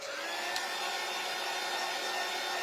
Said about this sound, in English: So let me get my little heat tool out.